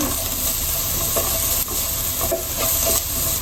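Chopped garlic dropped into hot oil while cooking chicken fried rice, with a dense continuous sizzle, close and loud, and faint stirring scrapes throughout.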